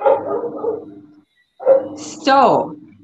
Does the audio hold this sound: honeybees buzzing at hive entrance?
no